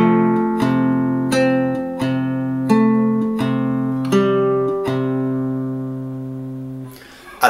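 Fingerstyle guitar plays a slow passage from a film piece, with plucked notes and chords ringing out one after another and decaying near the end, close and clear with no talking.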